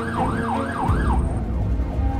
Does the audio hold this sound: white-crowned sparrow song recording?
no